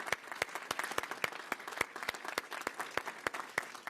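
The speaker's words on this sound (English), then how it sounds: "Round of applause for Brian, Airport Director." A crowd applauds the airport director at a terminal expansion grand opening, steady bright clapping from many hands that carries on without pause for several seconds, fairly close and filling the room.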